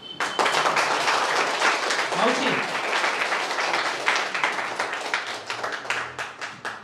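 Strong, sustained clapping from a poetry-recital audience fills the space throughout, with a voice briefly heard over the dense applause.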